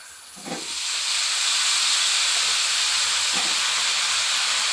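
Steady loud sizzling hiss of vegetables frying in a hot pan, continuous and close, with a couple of faint soft clunks near the start.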